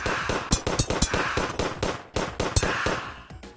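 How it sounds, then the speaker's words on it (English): A dart pistol fires repeatedly in the video game Terraria, a quick irregular series of sharp popping shots, moderately loud, with a short pause midway before the shooting resumes. "The dart pistol, which instead of shooting bullets, obviously it shoots darts"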